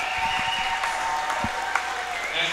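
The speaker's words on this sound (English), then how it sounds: "Big round of applause here." A crowd at a college men's basketball game applauds steadily through player introductions, a broad wash of clapping with a voice briefly audible underneath.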